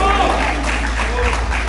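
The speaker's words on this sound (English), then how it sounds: "A round of applause for Abubakar Naim." Graduation ceremony audience applauding a student, a steady wash of clapping and crowd noise over a low hum, with voices mixed in.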